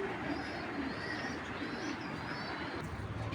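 Cheeta Military big-size giribaz pigeons coo softly and repeatedly amid steady background noise, with faint bird chirps mixed in.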